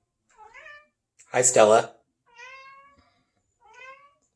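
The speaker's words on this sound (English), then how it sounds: "You can hear my cat meowing in the background." A pet cat named Stella meows several times nearby in a quiet room, with short tonal cries around a person's brief greeting to her.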